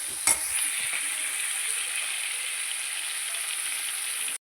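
Ginger, garlic, tomato and curry leaves are sautéed in a pan for a fish curry, giving a dense, loud sizzle with a brief stirring scrape at the start. The sound cuts off abruptly just before the end.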